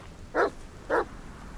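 A dog in the video game The Medium gives two short, distinct barks about half a second apart, moderately close over a quiet ambient background.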